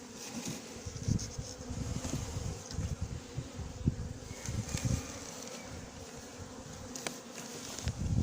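Swarm of honey bees buzzing steadily outdoors in Soignolles-en-Brie, a dense continuous drone of many insects with occasional louder passes near the listener.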